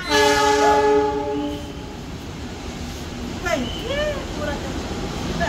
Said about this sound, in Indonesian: Jalur 8 lokomotif pulang.